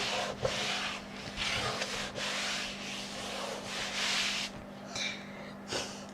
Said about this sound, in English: just burnishing that down.